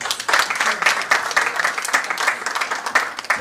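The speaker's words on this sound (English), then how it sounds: "Let us give a warmer round of applause" Audience applause at a public finance institute event in Kenya, a dense steady clapping from a crowd that carries on without a break, with faint voices mixed in.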